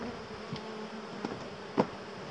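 Honeybees buzzing densely around a hive during a beekeeper's colony transfer, a continuous close hum with a few louder passes as individual bees fly near.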